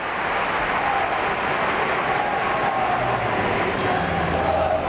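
A crowd at a gymnastics meet applauds steadily after a routine, a dense, even wash of clapping and cheering throughout, with a commentator's voice faintly beneath.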